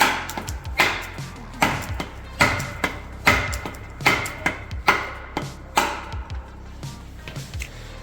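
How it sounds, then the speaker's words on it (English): Hammer blows knocking a seal out of a BMW 188L differential housing during a rebuild, about a dozen sharp metallic strikes in an uneven rhythm, close and loud with no talk. "I also put this guy here, and then simply hammer."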